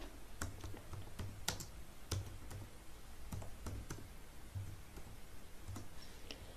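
Computer keyboard being typed on in a computer lab while entering a command, with a scattered run of light key clicks over a steady background hum, close and fairly faint.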